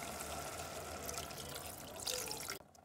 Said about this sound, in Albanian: Një gotë me ujë.